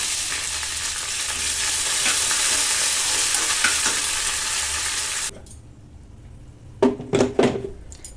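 Curry leaves and chopped coriander crackle loudly in hot oil for a Telugu cucumber chutney tempering, a steady close sizzle with stirring that cuts off abruptly, followed by a few sharp utensil clinks and scrapes.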